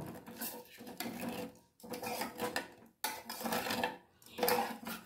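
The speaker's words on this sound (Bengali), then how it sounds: "এর মধ্যে আমি দুধটা অ্যাড করে দিলাম, আর দিয়ে সমানে আমি নাড়িয়ে যাব।" Masala tea with milk is stirred in a pot, the spoon scraping and clinking against the metal in repeated rhythmic strokes separated by short pauses, close but fairly quiet.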